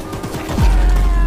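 Gunfire from the video game Choo Choo Charles: a quick rattle of shots, then a heavy booming blast that lingers loudly to the end.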